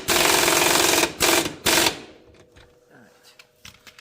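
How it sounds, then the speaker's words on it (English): An impact gun rattles in three loud bursts, one long run and then two short ones, tightening the top shock bolt on an EZGO RXV golf cart, followed by quieter handling clicks. "I'm going to use my gun to tighten this down"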